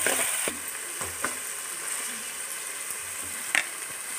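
Ginger paste frying in a pan with steady broadband sizzling, punctuated by a few sharp scrapes and knocks of a utensil stirring it, fairly close and with no talking.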